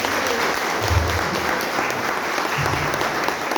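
A crowd claps steadily in a dense, continuous round of applause lasting a few seconds, with no talking over it.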